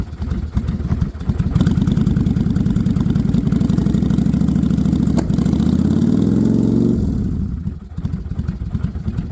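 A cold Kawasaki VN800 Vulcan V-twin motorcycle engine idles with a loping, uneven beat through a worn exhaust, rising briefly in pitch before settling and fading near the end. No voices.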